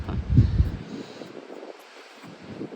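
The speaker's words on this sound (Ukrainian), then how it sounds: "біля океану сильний холодний вітер" Strong, cold ocean wind on the coast at Pacific City buffets the microphone with low, gusty rumbling, loudest early on and then easing into a steadier blustery roar.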